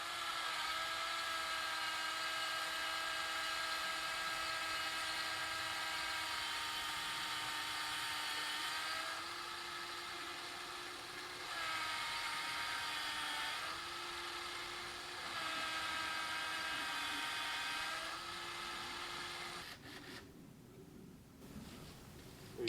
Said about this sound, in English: we're going to drill a hole in the side of the tree